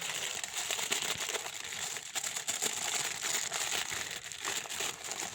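Sheets of paper crinkle and rustle steadily as they are folded by hand for a homemade Mjolnir hammer craft, close and soft, with no talking.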